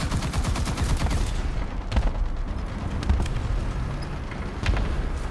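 Heavy cannon and machine-gun fire from an ISU-152 Soviet tank destroyer in War Thunder, shooting into bushes: a steady loud rumble broken by sharp blasts around the middle and toward the end, with no talking.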